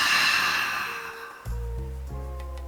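A long, audible breath pushed out through an open mouth during a yoga stretch, a breathy whoosh that fades over about a second before a steady low hum takes over.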